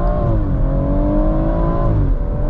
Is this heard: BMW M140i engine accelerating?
yes